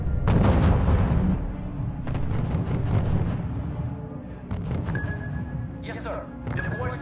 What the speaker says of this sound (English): Unit reports heavy fire.